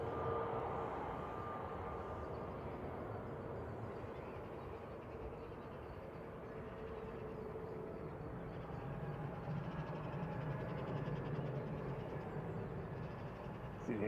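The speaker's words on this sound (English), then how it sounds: "You don't want me to talk over the takeoff." A jet airliner takes off at Manchester Airport, a broad steady engine roar heard from a distance that holds across the whole stretch with a faint swell toward the end, with no talk over it.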